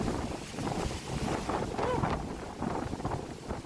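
Strong wind buffeting a microphone, a continuous rumbling roar with gusty swells and no talking.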